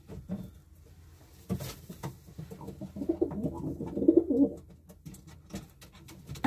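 Racing pigeons coo softly in a loft, low repeated throaty calls with light shuffling and flutters nearby, quiet and close.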